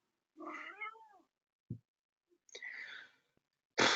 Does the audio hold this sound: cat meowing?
yes